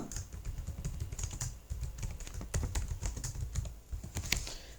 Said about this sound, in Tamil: இப்போது நம்ம டைப் பண்ணிட்டோம்.